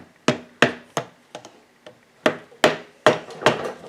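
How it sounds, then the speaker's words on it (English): Hammer butt tapping on a Yamaha WR426F dirt bike engine part during reassembly: about ten sharp, close knocks in an uneven rhythm, some louder and some lighter, with no talk. "I'm going to tap it with a hammer, but I'm going to use the butt end of the hammer."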